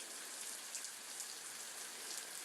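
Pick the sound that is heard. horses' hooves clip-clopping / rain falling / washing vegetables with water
rain falling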